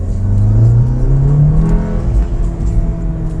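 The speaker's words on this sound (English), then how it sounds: "you could hear that turbo so much more, and then when you're on it as well, it sounds pretty awesome" A Volkswagen Golf R with a new air intake revs hard, its engine note rising and falling close by, with turbo whoosh riding over the low rumble through the whole stretch.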